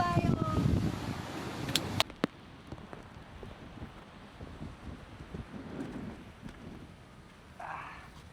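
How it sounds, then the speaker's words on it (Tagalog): Strong typhoon wind buffets the microphone on a beach during a storm, a loud broadband roar with gusts and a sharp knock near two seconds, later easing to steady rushing with faint rain-like hiss. "Lakas ng hangin sobra."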